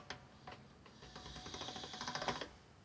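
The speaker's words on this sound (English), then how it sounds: "I'm avoiding the pasta machine" Pasta machine rolling polymer clay through its rollers on setting 3, a quick run of rapid mechanical clicks and whirring that builds steadily over a couple of seconds, fairly quiet and heard alone.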